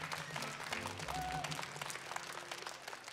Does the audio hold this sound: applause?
yes